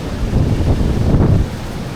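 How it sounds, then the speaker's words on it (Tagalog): Strong wind buffets the microphone in a steady, roaring rush, loud and close throughout. "Lakas ng hangin."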